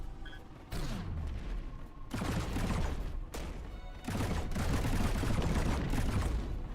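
Turrets in a video game open fire in loud, sustained bursts, the booming volleys starting abruptly and pausing briefly between salvos amid a dense clatter of shots.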